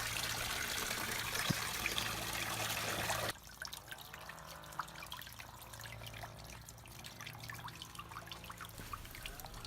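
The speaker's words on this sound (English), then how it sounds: "you'll notice a lot more flow coming through, and that's going to drain just all the water in that hot water tank" Water drains from the tank of an Airstream Hott Rod water heater in a steady trickle, loud and rushing at first, then settling into a fainter flow with scattered drips and splashes.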